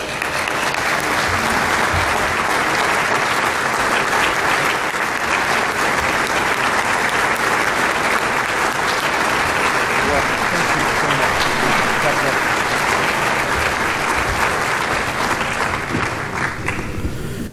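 An audience applauds steadily to welcome speaker Robert Spencer at a U.S. Catholic gathering, a loud, continuous wash of clapping from a large crowd that holds for many seconds before tapering off at the very end.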